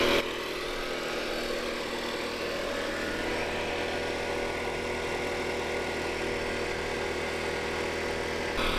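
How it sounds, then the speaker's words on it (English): A generator engine runs at a steady idle, a continuous mid-pitched mechanical drone with a constant hum underneath, close by and unchanging, with no one talking. "And this is the generator."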